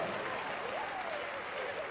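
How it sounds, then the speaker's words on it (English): Spectators at a Crufts 2013 dog show Good Citizen Dog Scheme demonstration give a steady round of applause, heard from a distance and fairly faint, with a thin whistle-like tone drifting over the clapping. "Big round of applause, folks."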